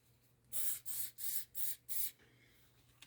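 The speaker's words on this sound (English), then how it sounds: "So I'm using hairspray" Five short, evenly spaced hisses from an aerosol hairspray can, close and crisp, in a quiet room.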